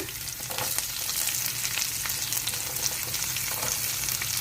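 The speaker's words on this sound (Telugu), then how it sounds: "ఇవన్నీ బాగా వేగిపోవాలి ఉల్లిపాయలు వేగిపోయినాయండి" Green chillies and chopped onions fry in hot oil for a potato gravy, giving a steady, close, dense sizzle with faint stirring scrapes throughout and no voices.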